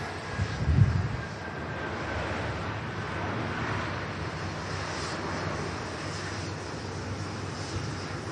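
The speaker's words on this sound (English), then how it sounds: "I've got a Dreamliner departing after this" A Boeing 787 Dreamliner departs Manchester Airport, heard as a steady distant jet roar with a faint high whine, a brief low thump near the start, then an even wash of engine noise with no talking.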